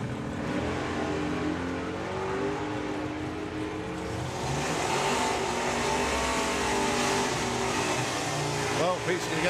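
A Camaro and a Porsche 911 accelerate down a drag strip at a drag racing nationals event, a continuous loud engine roar that swells partway through, with a commentator talking over it.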